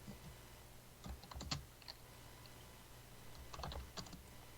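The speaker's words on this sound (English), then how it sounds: "Oh, I hear typing." Typing on a computer keyboard comes through faintly, two short clusters of quick clicking keystrokes separated by a pause, over a low background hum.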